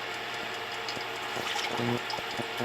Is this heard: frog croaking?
no